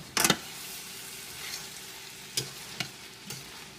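Bean sprouts tossed in a hot pan for pad thai, a sharp clatter and sizzle burst at the start, then a few quieter scraping tosses spaced apart over a faint background hiss.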